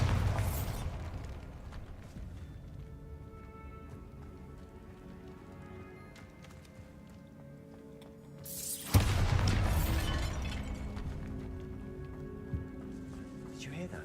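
A Bombarda blasting spell explodes in the Hogwarts Legacy video game inside a tomb: after a quiet, low ambient stretch, a sudden loud broadband blast rings out and decays slowly.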